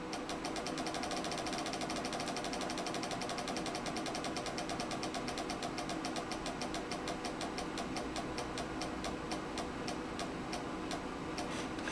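The big Wheel of Fortune wheel spins on a game show stage, a rapid regular ticking of its pegs clattering steadily and gradually slowing over a busy studio background.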